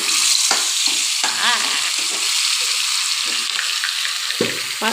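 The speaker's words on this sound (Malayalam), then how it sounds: "നമ്മുടെ മാളു ചേച്ചി ഇവിടെ മീനുകൾ ഓരോന്നായി പാത്രത്തിലേക്ക് ഇട്ട് കൊടുത്തുകൊണ്ടിരിക്കുന്നു" Fish pieces being dropped one by one into hot oil in a pan, a steady loud sizzle with bursts of crackling as each piece goes in, no voices.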